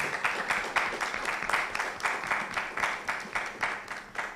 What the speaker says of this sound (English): I invite you to give all four teams a strong, rousing round of applause.